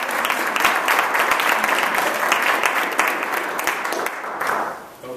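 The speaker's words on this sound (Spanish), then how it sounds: "Un aplauso para las familias." An audience claps in thanks for the families at a Founder Institute Colombia event, a dense, close burst of applause that holds steady and then tapers off.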